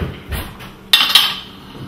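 A metal spoon clinks against cutlery and a pot while Toscana soup is served, giving two sharp, close clinks after a few softer handling sounds, with no talking.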